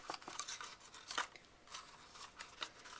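A paper strip is cut down to size with scissors, giving a run of short, crisp snips and rustles, close and fairly quiet, with no talk.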